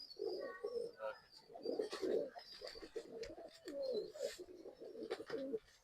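Several pigeons coo in soft, throaty, repeated rolling calls at close range, with overlapping coos and faint chirps in a breeding loft in Bangalore where birds are sold.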